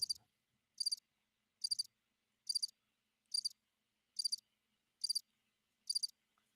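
Cricket chirping sound effect: eight evenly spaced, high trilling chirps repeating about once per second, clear and isolated against near silence.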